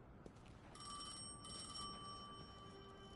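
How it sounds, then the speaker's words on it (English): A telephone rings with a quiet electronic trill in two bursts separated by a short gap, set against a steady background hum with no talking. "That's the fucking phone."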